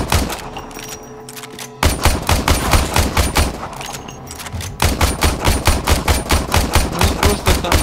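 Rapid automatic gunfire in the video game Warframe, loud and close, in repeated bursts with brief pauses, dense rhythmic shots dominating throughout.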